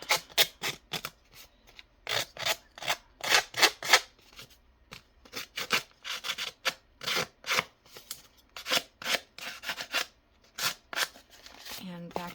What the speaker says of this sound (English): I'm going to rough up these edges.